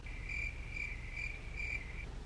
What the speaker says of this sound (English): Yeah, crickets.